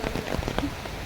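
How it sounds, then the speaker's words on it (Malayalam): Steady rain pours at Thiruvananthapuram zoo during the monsoon, a dense hiss of drops striking surfaces and a shelter nearby, heard alone for a brief moment. "ഈ മഴയൊന്ന് കുറച്ച് കുറഞ്ഞിരുന്നെങ്കിൽ"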